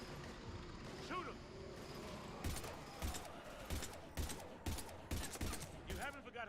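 Rapid bursts of gunfire in Mass Effect 3 crack out in a fast repeating rhythm over busy battle noise, loud and close, with shouted voices mixed in among the shots.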